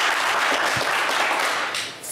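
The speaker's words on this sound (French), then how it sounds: "On vous applaudit très fort." Game-show studio audience gives a hearty round of applause, dense, close clapping holding steady before thinning slightly at the very end.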